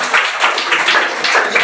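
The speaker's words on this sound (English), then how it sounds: "Clap for him for his wonderful speech." An audience at a school Teachers' Day program applauds a student's speech. The clapping is steady, dense and close, with no break.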